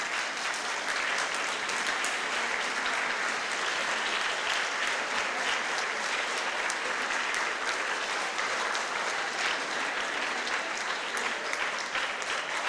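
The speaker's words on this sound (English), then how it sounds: "give your panelists a round of applause" Sustained applause from a large crowd for panelists at a middle school forum, steady dense clapping that continues without pause throughout.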